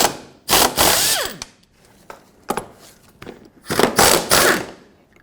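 A ratchet with an 18mm socket loosens the fuel tank strap nuts on a 2008-2010 Ford F-450 Super Duty, giving several loud, close bursts of fast clicking separated by short pauses.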